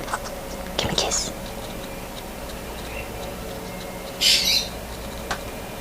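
A pet cockatoo gives a couple of short, sharp squawks amid quiet indoor sounds, with a few soft clicks and faint background noise.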